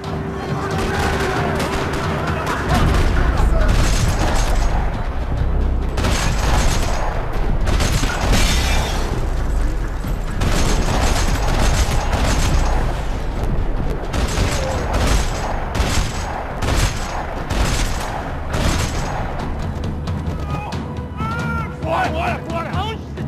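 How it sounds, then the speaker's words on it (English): Heavy gunfire rattles through a parking lot in the video game Max Payne 3: dense bursts of shots and booms, loud and nearly continuous throughout. "Another parking lot rattling with gunfire."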